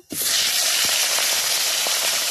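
A fish head drops into very hot oil in a wok, erupting into a loud, steady, dense sizzle that holds at full strength with faint crackles underneath; no talking.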